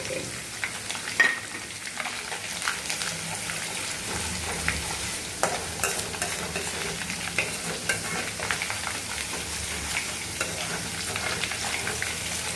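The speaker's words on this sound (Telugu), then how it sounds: "పచ్చివాసన పోయే వరకు వేపుకోవాలండి ఇది. ఎందుకంటే అల్లం వెల్లుల్లి వేగిపోయింది పేస్ట్." Ginger-garlic paste with a pinch of turmeric fried in oil in a pan, producing a steady, dense sizzle throughout with occasional scraping stirs, close and continuous with no talking.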